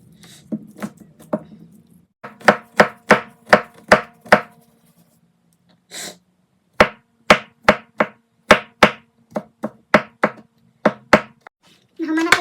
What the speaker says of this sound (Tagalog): Nahuman na paghiwa sa ato ang ahos o onion